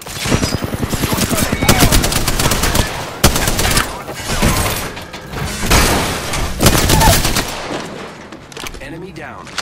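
Heavy gunfire bursts in Apex Legends, loud rapid automatic shots in several dense clusters separated by brief lulls, with a short spoken line over the firing.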